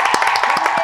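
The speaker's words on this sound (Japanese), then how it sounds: "拍手。" Hands clapping in welcome for a guest, a former J-League footballer, at the start of a casual chat show: a short burst of quick, close claps, loud and sharp with no talk over it.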